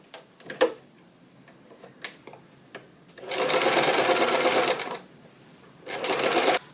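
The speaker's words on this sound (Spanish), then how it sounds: "Y una vez unido con alfileres lo vamos a coser a máquina." A sewing machine stitches a trouser waistband, starting with a few sparse ticks and clicks, then running in two steady, loud whirring bursts close by with a short pause between them.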